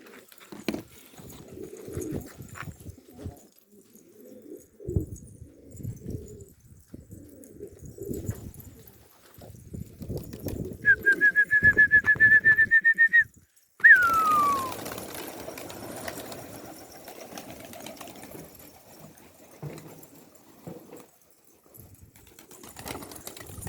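Pigeons coo softly and repeatedly in a loft of young Istanbul flying pigeons, a low murmur under background noise, joined midway by a rising, chirping whistle and then a falling sweep.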